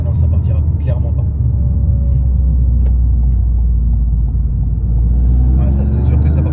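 Car driving around a roundabout, its engine giving a loud, continuous close-up rumble with faint shifting tones above it and brief higher noises near the end.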